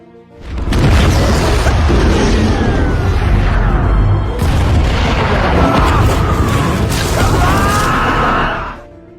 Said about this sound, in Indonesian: digunakan oleh Kapten Peter Khan, hingga akhirnya terjadilah ledakan super dahsyat.